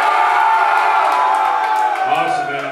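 Concert crowd at a metal show in Glendale, California screams on cue, a loud sustained wall of shouting and whooping that holds steady throughout before tapering slightly near the end.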